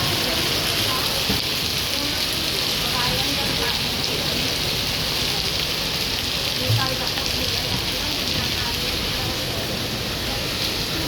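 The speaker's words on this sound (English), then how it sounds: "It is raining heavily," Heavy rain pours down in Singapore, a constant roaring wash of water striking surfaces nearby, steady and loud, with faint voices now and then beneath it.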